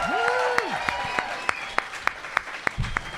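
An audience applauds at a podcast taping, the clapping steady under a musical tone and a few sharp spaced hits, moderately loud and fading out near the end.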